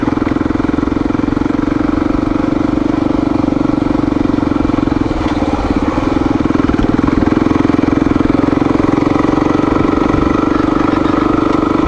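An XR dirt bike, repainted green, is ridden along a rocky trail on Wolfs Creek Road near Blairsville, Georgia, its engine droning loud and close with a steady pitch and slight surges as the throttle shifts.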